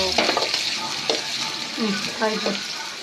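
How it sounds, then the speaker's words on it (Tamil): Two green chillies frying in a pan for noodles give a close, crackling sizzle, broken up by scraping stirring strokes at an uneven rhythm. "ஒரு 2 பச்சை மிளகா போட்டுக்கோங்க. அப்படியே போட்டு நல்லா வதக்குன்னு வதக்குங்க"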